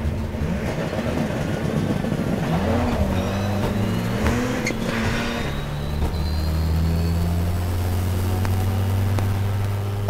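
A 600bhp four-wheel-drive rallycross Citroen DS3 accelerates hard from a standstill, its loud engine roaring steadily and rising in pitch through a series of quick gear changes, with no break in the sound for about ten seconds.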